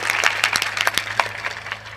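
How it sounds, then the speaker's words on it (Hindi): Scattered clapping from a crowd gathered at a village Bhagavat katha religious discourse, a brief patter of hand claps that is fairly close and fades toward the end. "ताली सबके लिए बजना चाहिए कि नहीं बजना चाहिए।"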